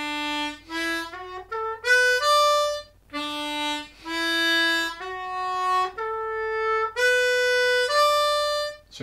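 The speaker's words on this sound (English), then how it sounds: "So the major pentatonic in third sounds like this." Harmonica playing a major pentatonic scale in third position, a series of clear sustained single notes stepping up and down in pitch, close and alone with no talking.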